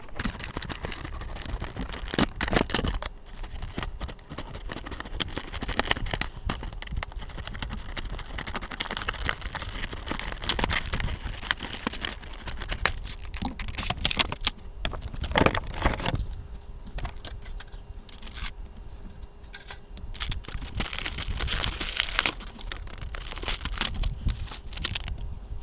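Bachmann model train packaging is opened by hand over a long stretch, with continuous crinkling, tearing and rustling of plastic and cardboard, close and steady with scattered sharper bursts and no talk.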